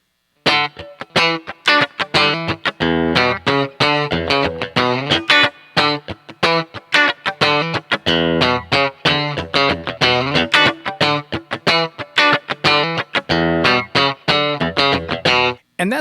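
An effects-driven electric guitar plays a funk riff with muted scratch strokes filling the gaps. Rapid, continuous percussive strumming carries pitched chord hits, loud and close with no other sounds.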